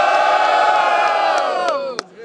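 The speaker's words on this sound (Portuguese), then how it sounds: "Muito barulho pra quem gostou das rimas do Gomes!" A large crowd at a rap battle semifinal roars and cheers loudly, sustained whooping and shouting that swells then tapers off near the end.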